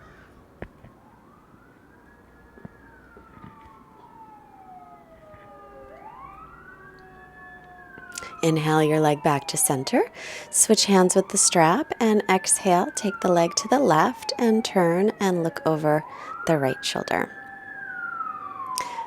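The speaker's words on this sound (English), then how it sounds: "Sorry if you can hear the fire engine in the background." A fire engine siren wails in the background during a gentle yoga class, faint sweeping rises and falls at first, then a loud rapid yelp takes over while an instructor keeps speaking over it.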